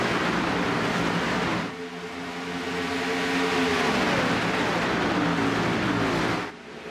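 Race cars in the iRacing video game lap Texas Motor Speedway, a loud sustained engine roar that swells and shifts in pitch as cars pass, cut off abruptly near the start and end, with no talking.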